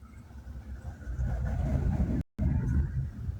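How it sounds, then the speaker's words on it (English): A car approaching along a road and passing by, a steady rumbling engine and tire noise that swells and holds close for a few seconds before a brief dropout. "There's a car coming, and I pray to God it's not a cop."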